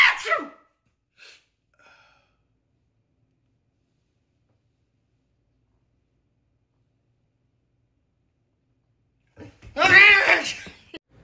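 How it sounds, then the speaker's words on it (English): A person fakes a loud, abrupt sneeze in front of Doberman dogs; the single sneeze is followed by a few faint sounds and a long silence, then a short burst of voice or animal noise near the end. "Fake sneeze in front of your dogs."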